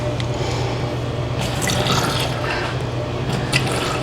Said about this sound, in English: There's a bottle refill station.